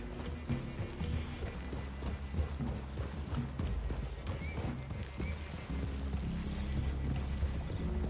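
Horse hooves in the video game Red Dead Redemption 2 clop in a steady, continuous rhythm as several horses walk, moderately close under a constant low ambient rumble.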